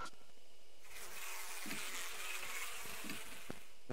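A bee buzzes steadily and loudly in the Death Mark horror adventure game, a dense insect drone filling the whole clip with a few sharp clicks near the end.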